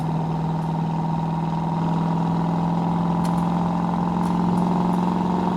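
A 2002 Chevrolet Corvette Z06 V8 pulls steadily in third gear, a constant droning engine note heard from inside the car, even and sustained with no speech.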